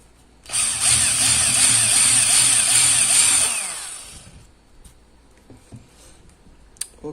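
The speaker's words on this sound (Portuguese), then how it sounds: "O outro lado também precisa fazer o chanfro." Metal lathe cutting a chamfer on a part for a projector mount, a loud shrill whine with cutting noise for about three seconds, then fading to faint workshop clicks.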